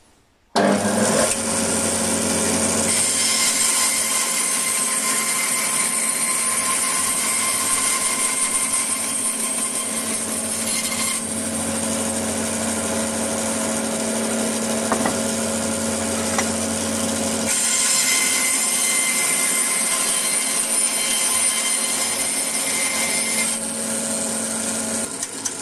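A power saw, guided along a rail, cuts notches into wax-coated wooden formwork planks for a raised garden bed, running loud and steady for over twenty seconds with shifts in pitch as the blade moves through the wood.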